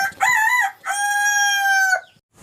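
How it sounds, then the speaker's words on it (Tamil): A rooster crows close by: a short opening note, a brief break, then one long, loud drawn-out call that cuts off sharply. "கோழி கூவும்."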